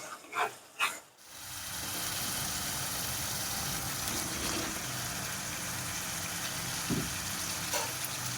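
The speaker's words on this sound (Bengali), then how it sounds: "এবার আমি দিয়ে দেবো ভাজা এই চিকেনটা" Fried chicken tipped into spiced masala in hot oil for a Bengali chicken kasha, a few clattering thumps at the start followed by a steady, continuous sizzle with occasional faint knocks.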